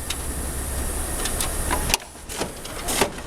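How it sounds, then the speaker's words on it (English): Header card staple machine running on a packaging line, a steady mechanical whir and hum with a sharp clack as a staple is driven, followed by lighter clicking cycles. "You can see it's stapling."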